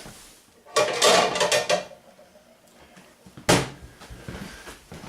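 A large red Copper Chef skillet is pulled from a kitchen cupboard: two close clattering bursts of metal knocking against pans and cabinet, separated by a quieter gap.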